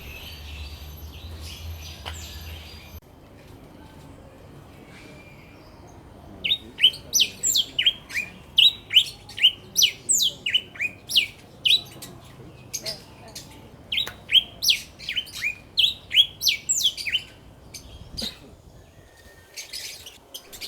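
Many birds, including Java finches, chirp and tweet in quick bright bursts inside an aviary at Jurong Bird Park. The calls are dense and busy through the middle stretch, after a quieter start.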